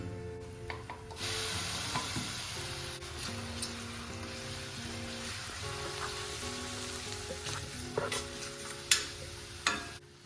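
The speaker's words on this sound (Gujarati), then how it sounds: "ત્યાર પછી આપણે જે ઓનિયનની પેસ્ટ બનાવી હતી એ એડ કરીશું." Onion paste sizzles steadily in a hot pan for a Gujarati green pigeon pea totha dish, with a continuous frying hiss and occasional scraping stirs and clinks of a spoon against the pan.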